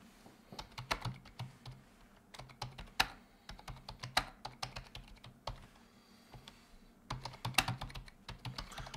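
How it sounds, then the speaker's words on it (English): Rapid typing on a computer keyboard, clustered bursts of close, crisp key clicks with brief pauses between, alone without talk. "I'm typing. I enjoy to type."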